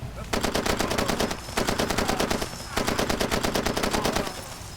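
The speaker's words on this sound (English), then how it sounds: "My gun exploded." A gun blows up in the player's hands in the video game Far Cry 2. Three bursts of rapid, rattling gunfire, each lasting about a second, are separated by short pauses, loud and close, with no voices.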